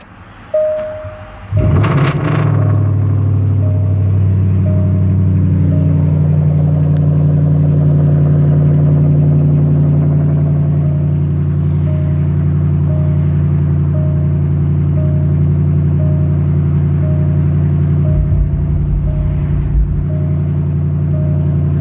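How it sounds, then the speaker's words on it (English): A 2018 BMW R nineT motorcycle with its resonators and muffler removed, running straight-piped, idles steadily and loudly. A deep, even rumble carries through the whole stretch after a brief rise at the start, with no talking. "We got rid of the resonators, and it's basically just straight piped out there, man."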